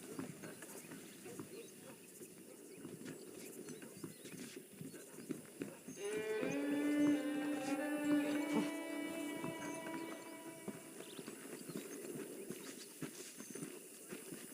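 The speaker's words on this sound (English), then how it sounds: "The horses are saddled up over here." Horse hooves clip-clop in Red Dead Redemption on a PS3 game, a steady patter of steps with a saddled horse moving through an outdoor frontier setting, under game music and ambient sound.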